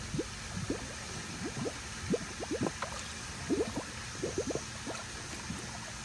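Pool vacuum hose filling with water, steady low gurgling with irregular bubbling pops and glugs close by over a constant watery wash, no voices.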